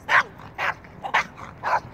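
Small leash-reactive terrier barking in four sharp, yappy bursts about half a second apart, close and loud.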